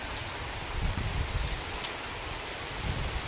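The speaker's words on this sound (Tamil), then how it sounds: "ஆமாம், நல்லா சாரல் அடிக்குது" Light drizzling rain falls outdoors in Karaikudi as a steady soft hiss, with gentle low rumbling gusts underneath and no voices.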